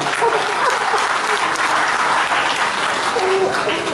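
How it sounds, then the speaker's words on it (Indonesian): Loud, dense audience applause at a formal Indonesian event honoring a company president, sustained evenly for the full four seconds like a large crowd clapping close by. "Tepuk tangan dong, Presiden."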